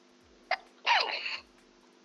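A single sharp sneeze, a short intake followed by a loud burst, close to the microphone against a quiet background.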